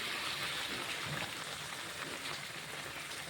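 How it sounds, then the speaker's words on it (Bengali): Luchi dough sizzles in hot oil, a soft continuous bubbling hiss heard close and fairly quiet, with no talk over it. "ভালোভাবে ভেজে নিচ্ছি।"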